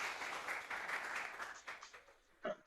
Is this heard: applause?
yes